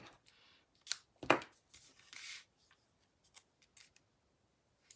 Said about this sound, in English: There's my tape scissors.